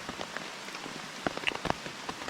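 Rain pattering on a camping tarp, a steady soft hiss of drops with scattered sharper taps standing out near the end, fairly quiet and with no voices.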